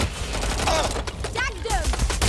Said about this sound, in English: They got me! Someone's shooting!